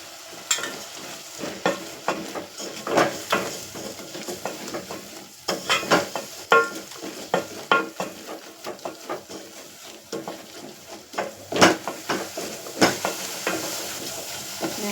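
Curry masala powder sautés in a frying pan for a tamarind curry, a moderate continuous sizzle with frequent rhythmic scrapes and stirs of a spoon against the pan, no voices.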